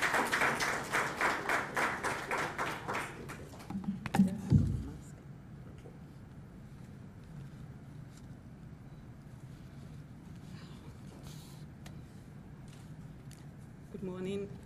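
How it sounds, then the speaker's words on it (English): Audience applause at a Ghana corruption report launch event, a few seconds of dense clapping that fades out, followed by quiet room tone, a brief thump and a voice starting at the end. "Please, with a round of applause,"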